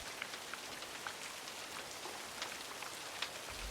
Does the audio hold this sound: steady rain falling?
yes